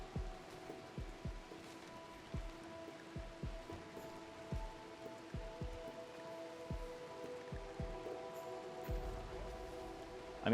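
Light rain in a video game, faint and soft, with a scattering of irregular low drop-like taps over a quiet steady hiss and a background tone.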